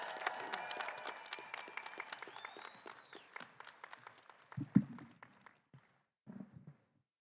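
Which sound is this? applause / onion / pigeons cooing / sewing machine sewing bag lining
applause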